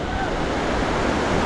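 Broad, steady roar of heavy rushing water at Alitap Falls in Atimonan, Quezon, running high after rain, a dense continuous wash with no breaks, close and loud.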